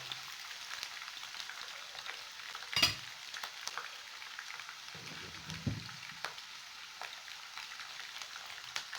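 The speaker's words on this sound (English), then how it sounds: "Putting the onion, allow it to fry a little bit before putting pepper." Onion fries in a pan for a restaurant-style white beans and yam dish, giving a soft, fine crackling sizzle that stays fairly quiet and close. One sharper clack sounds partway through, and no one speaks.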